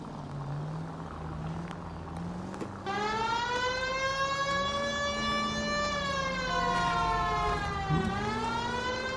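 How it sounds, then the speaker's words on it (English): A police car siren wails in L.A. Noire, rising and falling in steady electronic sweeps, loud and continuous over engine noise. "And yep, you can have the siren on."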